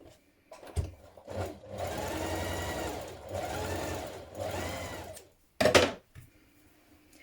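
A sewing machine runs ease stitching along the top of a dress sleeve in several bursts, steady whirring runs separated by pauses, close and fairly quiet, with a short sharp clack near the end.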